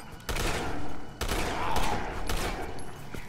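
Rapid bursts of gunfire from the video game Resident Evil 6 crack out in quick succession, loud and close, with a player faintly talking underneath.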